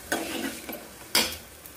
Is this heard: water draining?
no